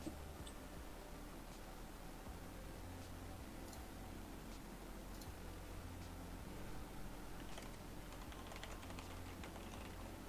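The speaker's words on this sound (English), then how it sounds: "just typing away over there" Typing on a computer keyboard during a live trading session, heard as faint, scattered key taps buried in constant background hiss, with no talking.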